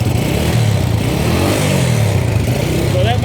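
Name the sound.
Honda XL125 motorcycle engine running on full choke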